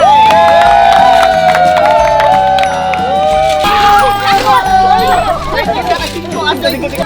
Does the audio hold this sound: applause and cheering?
yes